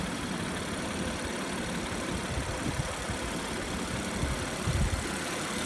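A 2016 Audi A7 Prestige S Line with its 3.0T supercharged engine idles steadily at close range, a low even rumble with a slight swell near the end and no talking over it.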